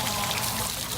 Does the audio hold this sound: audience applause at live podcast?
no